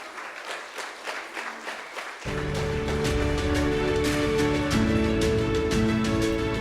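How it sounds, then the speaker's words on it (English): Audience applause at a university's vice-chancellor's distinguished awards ceremony, a steady mass of clapping that swells and holds for several seconds, with music starting up underneath it partway through. "Can we give a good round of applause for Dr. Newland Marongwe as a senior teacher?"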